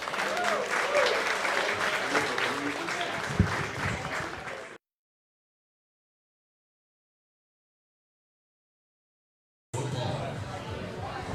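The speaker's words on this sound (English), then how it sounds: "And a big round of applause as we're welcomed back into Bowditch in College Town." Studio audience applause on a college football coach's show, a dense steady wash of clapping with crowd chatter that cuts to silence midway, then resumes.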